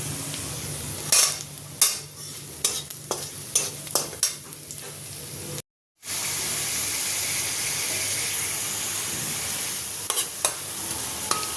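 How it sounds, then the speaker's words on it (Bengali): Dried red chillies sizzle in a pan while a spatula scrapes and clinks against it in irregular strokes, then a steadier loud frying hiss takes over after a brief gap, with a few more stirring knocks near the end. "এটার জন্য একটু শুকনো মরিচ আমি ভাজা করে নিচ্ছি"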